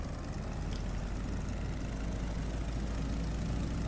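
A Stearman biplane's engine idles on the ground, a loud continuous low rumble with steady roar and no voices.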